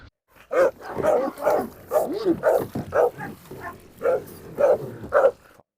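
Dogs bark repeatedly in a loud, steady series of close, sharp woofs, about a dozen barks in quick succession.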